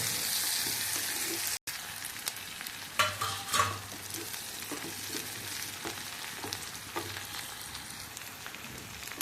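Onions sautéing in a pan for Salem-style kara kuzhambu, with a soft, steady sizzle and repeated scraping stirs of a spoon, one louder burst of clatter partway through.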